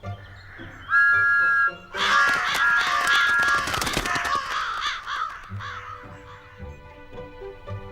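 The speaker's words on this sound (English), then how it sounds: "He hooted and tooted all night long to scare away the crows." Crows caw repeatedly while a steam train's whistle toots in short bursts, part of an animated children's story with music underneath; the sounds are loud and busy in the middle, then fade to quieter calls.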